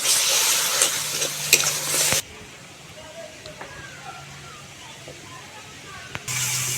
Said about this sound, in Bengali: খুব ভালো করে আমি কষিয়ে নেব 1 মিনিট ধরে।